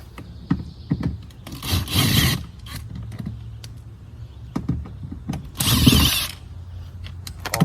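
Small scraping and clicking hand-tool noises while Phillips screws are backed out with a screwdriver on an Acura TSX, irregular close ticks with two louder rasping bursts, no talking.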